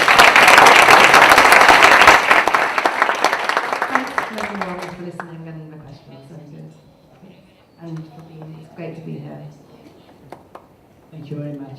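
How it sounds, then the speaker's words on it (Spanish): Audience applause at a university lecture on art, science and technology: dense, loud clapping that fades away over a few seconds, after which a voice speaks alone. "Un último fuerte aplauso,"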